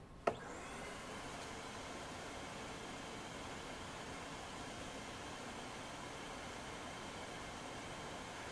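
A sharp click, then a DeWALT 12-gallon Stealth Sonic wet dry vacuum (DXV12P) roars to life and runs with a steady, loud whooshing hiss, close by.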